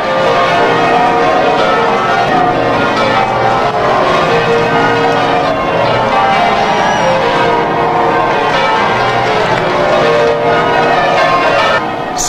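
Church bells peal at the 1981 royal wedding of Diana, Princess of Wales, ringing continuously in a dense wash mixed with the roar of a large outdoor crowd, loud and unbroken from start to finish.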